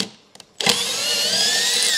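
A power drill spins a bolt through a gooseneck trailer hitch to clean its threads, starting after a couple of brief clicks and then whirring steadily and loudly at close range.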